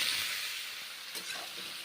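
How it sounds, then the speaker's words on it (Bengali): Mushrooms sizzle as they fry in a pan, a steady hissing crackle that sits close and fairly loud, with faint stirring scrapes and no talk. "মাশরুম ভেজে নিচ্ছি"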